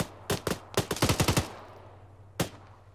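Gunfire in a military sim, a rapid cluster of sharp, close cracks followed by a lone shot after a short pause, with no talking.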